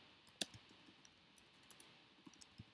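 Keys clicking on a computer keyboard as a hashcat command is entered during a penetration-testing session, a few sparse, faint taps and clicks scattered over a quiet background.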